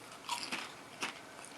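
Crisp bites into a crunchy Lay's Texas BBQ potato chip, three sharp crunches spaced through a quiet close-up moment, with no talking over them.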